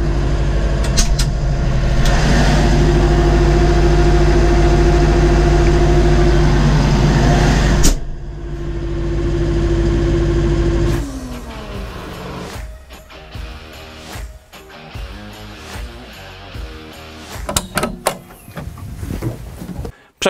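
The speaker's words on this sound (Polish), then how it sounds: "Teraz mamy taką głośność w ciągniku przy 1500 obrotów." Inside the cab of a Farmtrac 675DT tractor, the engine drones steadily at 1500 rpm with a strong low hum, then the sound opens up and shifts as the cab door is opened, bringing a rougher, more varied engine clatter.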